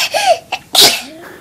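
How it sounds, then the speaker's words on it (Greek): One loud, close sneeze bursts out after a few short voiced, giggle-like sounds, then trails off into soft vocal noise. "άκουσα φτέρνισμα"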